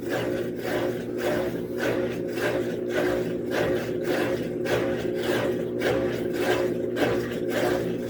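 A Maytag top-loading washing machine's pump sucks water with the lid up: a steady, loud mechanical whirring drone with a low hum and raspy texture, pulsing faintly in a regular rhythm, continuous throughout.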